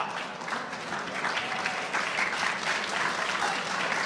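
An audience applauds after a speech: steady, dense clapping from a crowd that holds at an even level for about four seconds, with no talk over it.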